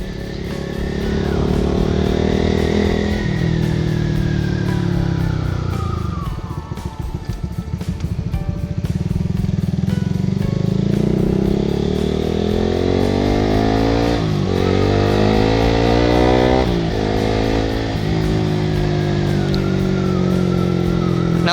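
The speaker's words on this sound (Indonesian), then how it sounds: "aku sukanya juga dari knalpot Ritek ini suaranya sedikit-sedikit ada ya titisan 2 silinder" Honda Supra GT motorcycle fitted with a Ritek exhaust, ridden along a road: a loud, close engine drone rising and falling with gear changes and throttle, steady throughout with no talking.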